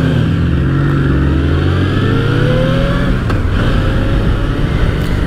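A motorcycle is ridden hard, its engine note rising loud and near as it accelerates through the gears, with steady rumble and wind throughout.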